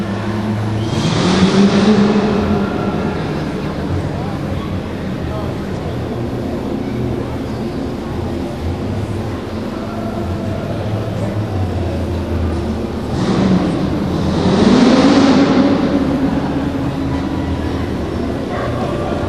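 A V8 engine at a speedway truck-jump and nitro event roars loudly and close, surging in two strong revving swells, one near the start and one near the end, over a constant rumbling background.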